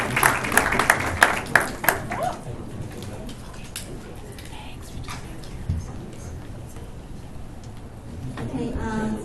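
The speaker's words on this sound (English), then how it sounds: "Please join us in welcome Director Sunny Lee with a big round" Audience applause greets a guest speaker at a Taiwan–EU electric vehicle industry investment forum: a brisk burst of clapping fills the hall for about two seconds, then fades into quiet room ambience.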